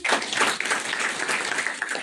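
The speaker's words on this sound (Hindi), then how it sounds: "तालियां हो जाए एक बार।" Audience applause at a foundation event honouring a chief guest, dense sustained clapping from a crowd, fairly close and even in loudness without a break.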